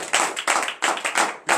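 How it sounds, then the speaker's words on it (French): A congregation at a morning prayer service in Comè, Benin claps in acclamation, strong rhythmic bursts of many hands in uneven groups, loud and close, separated by brief lulls. "qu'ils donnent de vive acclamation à notre Seigneur"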